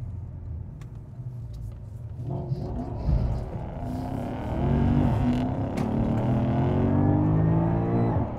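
A first-generation Porsche Panamera GTS in Sport Plus with ESP switched off is driven hard into a corner. The engine roars close and loud, its pitch climbing and holding as the car accelerates through the bend.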